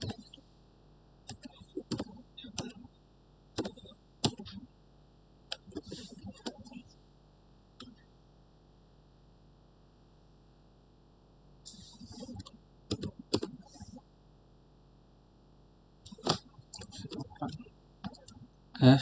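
Bursts of close computer keyboard typing come in quick clusters of key clicks with gaps of quiet between them, and a voice speaks quietly at times.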